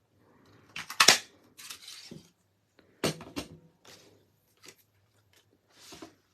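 Scissors snip through paper and card pieces for a handmade greeting card, a few sharp, close cuts in short bursts separated by quiet pauses, with no talk.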